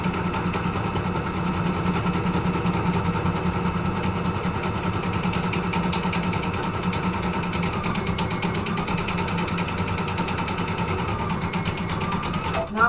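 An embroidery machine runs a zigzag satin stitch around a patch, a steady rapid mechanical whir with fast needle ticking and a low motor hum that continues evenly, while a person talks over it.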